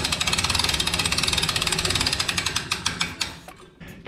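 A boat trailer's bow winch ratchets in rapid, even clicks as a boat is drawn down onto the bow roller, loud and close, the clicking slowing and breaking off near the end.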